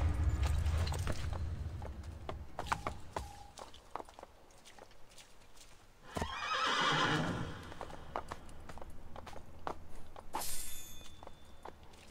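Hooves clip-clop along at a steady pace in the video game Assassin's Creed: Brotherhood, then a horse lets out a long, loud whinny, followed by more hoofbeats and a sharp rattle.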